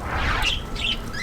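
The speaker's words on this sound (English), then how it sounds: "This is the aviary that I usually visit in order to just check on the birds." Birds in an aviary holding budgies, cockatoos, doves and chickens give a couple of short shrill squawks and chirps over a low rumbling background.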